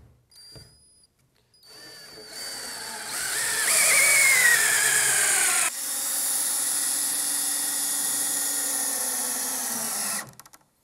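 A power drill driving a FastenMaster TimberLOK screw through a rafter into a top plate whirs up to a high, steady whine, drops pitch briefly, then runs continuously for several seconds before stopping abruptly.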